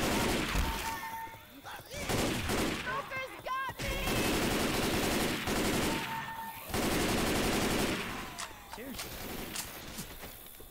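Assault rifle fire in Left 4 Dead 2 rattles in loud sustained automatic bursts with brief pauses, mixed with game chaos and voices talking over it.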